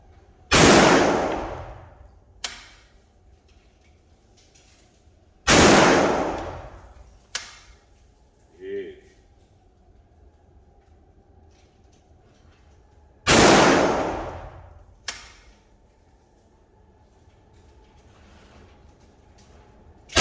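Springfield Armory Saint AR rifle fired at an outdoor target range: three loud, sharp shots spaced several seconds apart, each trailing off in a long echoing decay, with small metallic clicks between them.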